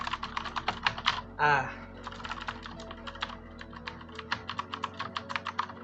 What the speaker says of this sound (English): my keyboard, which has blue switches, it is loud and clicky